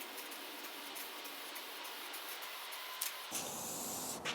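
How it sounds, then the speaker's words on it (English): A compressed-air paint sprayer applying paint in a carpentry workshop, a steady broad hiss that shifts in tone partway through, with no talking. "So spraying with an air sprayer is basically the same thing."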